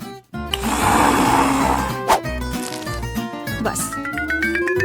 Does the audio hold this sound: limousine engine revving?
no